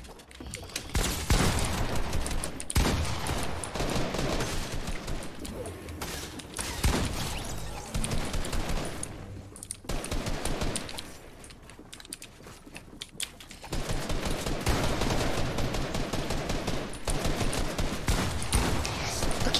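Rapid automatic gunfire from the Fortnite video game, dense clattering bursts running almost continuously at high level, with a brief lull midway before the shooting resumes loud.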